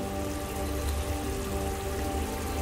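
Minced keema meat fries in hot oil, giving a dense, even sizzle and crackle that holds steady throughout with no voices.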